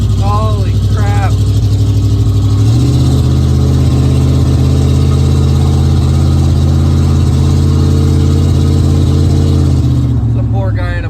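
A van engine with a broken, disconnected exhaust pipe drones loudly and close, a deep raw rumble that idles and then rises in pitch as it revs, steady and harsh throughout, with a brief voice near the start and end.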